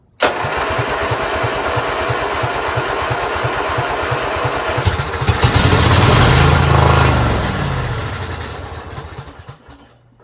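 A small Craftsman engine, fitted with a steel fuel shutoff valve, sputters and catches, then runs steadily with a loud, close rhythmic putter that swells midway before easing off near the end.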